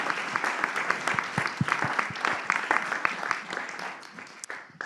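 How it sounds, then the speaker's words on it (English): An audience applauds panelists at the close of a forest policy event, steady dense clapping with sharp individual claps throughout, tapering slightly toward the end. "let us give them a big round of applause"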